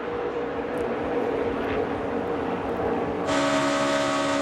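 NASCAR race cars at the 2014 Geico 500 qualifying, drafting in a line through the tri-oval: a steady, dense engine roar that swells louder near the end as the pack passes close.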